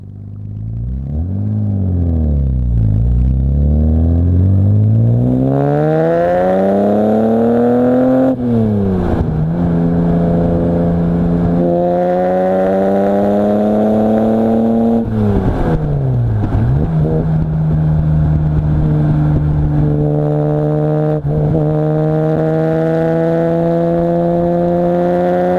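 Classic Alfa Romeo Duetto Spider or Jaguar engine pulling up a road, loud and close, revving through several gear changes with rising pitch, brief dips between shifts and a steady roar.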